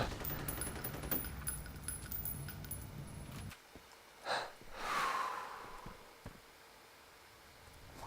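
Rapid automatic gunfire in the shooter game F.E.A.R. crackles in dense bursts for the first few seconds, then gives way to quieter breathing, whooshes and scattered thuds.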